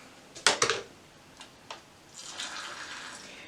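Water poured into the substrate of a Burgundy Goliath bird-eating tarantula enclosure, heard as a couple of brief splashy pours near the start, a few faint drips, then a soft steady trickle soaking in.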